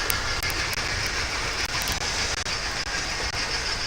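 Trains running as a continuous loud rumbling, hissing roar with faint rhythmic clicks, filling the scene without pause and with no talking over it.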